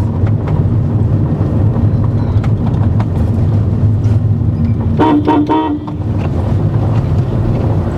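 Loud traffic rumble on a road in India with a few short car horn toots in quick succession partway through, sounding fairly close amid engine noise.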